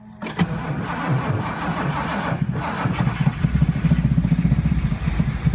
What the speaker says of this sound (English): First trial start of the Datsun 280Z.